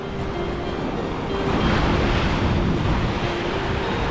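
Waves and wind fill the air at Walnut Beach on the Great Lakes, a steady rushing wash of surf with blustery wind on the microphone, swelling slightly midway and staying loud and close.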